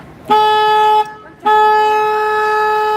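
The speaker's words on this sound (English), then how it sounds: "Now, guys, I'm going to honk my horn." Two loud, close vehicle horn honks, a long blast followed by a brief gap and a second sustained blast.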